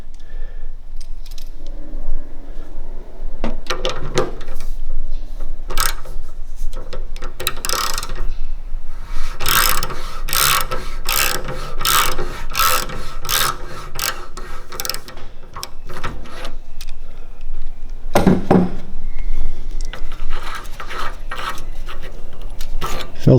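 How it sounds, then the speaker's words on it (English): A ratchet turns a Rinnai filter removal tool, giving a long run of loud, close clicking strokes, sparse at first, then dense and fast mid-way, with a brief extra burst near the end and no talking. "now I'm going to take the ratchet."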